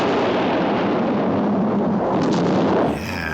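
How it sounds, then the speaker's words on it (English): Island explosion sound effect from the television series Space: 1999, a loud sustained roaring blast of broadband rumble lasting about three seconds before cutting off into a quieter tail. "And we get a fairly lovely island explosion."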